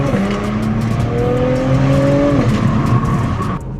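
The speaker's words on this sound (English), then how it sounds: "we're gonna talk about that little downpipe exhaust sound you just heard" Acura TLX Type S fitted with an aftermarket downpipe exhaust, accelerating hard in a parking lot: a loud, close engine note rises in pitch through a gear, drops briefly at a shift, then keeps droning.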